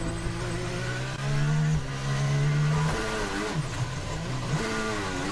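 A Formula 1 car's engine screaming at the Canadian Grand Prix, a loud sustained high whine that shifts pitch with gear changes and revs, with no talking over it.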